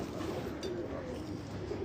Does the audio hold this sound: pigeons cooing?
yes